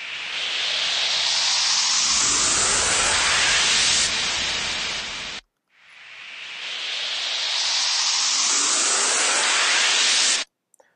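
Two rising white-noise upriser sweeps with full low end kept, built in Ableton Live; each hiss swells steadily louder and brighter for about five seconds before cutting off abruptly, the second following a short gap.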